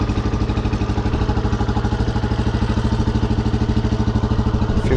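Kawasaki Vulcan 125 motorcycle engine idling steadily just after starting, a close, loud, even low throb with regular pulsing beats and mechanical clatter, no talk over it.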